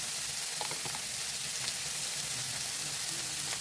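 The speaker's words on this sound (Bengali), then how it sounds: "এবার এটা ভালোভাবে ভেজে নিই" Fish oil fries in a pan with chopped chilli, salt and turmeric, alongside bottle gourd peel, giving a steady, close sizzle. Faint spatters and crackles pop through the continuous hiss.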